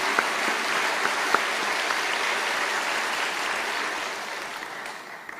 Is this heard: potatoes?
no